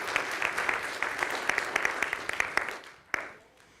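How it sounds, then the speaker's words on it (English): Church audience at a Scout Sunday service applauds a scout earning his first rank, a moderately loud burst of clapping that holds steady for several seconds and then thins out, with a brief quieter gap and a final sharp clap near the end. "Let's give him a round of applause, you guys."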